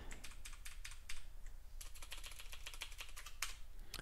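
An SSH command being typed on a computer keyboard: fast, steady key clicks alone at close range, with no talk.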